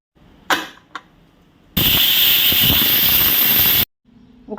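Pressure cooker whistling while a brinjal and chickpea curry cooks: one loud, steady, high hissing whistle lasting about two seconds, preceded by a couple of small knocks and ending abruptly.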